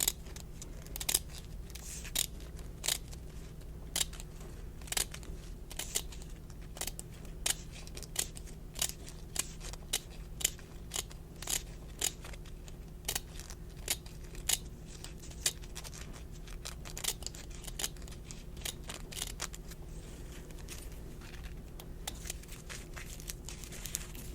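Scissors snipping through hair, a steady stream of close, crisp clicks and cuts repeating quickly over a quiet background, with no talking.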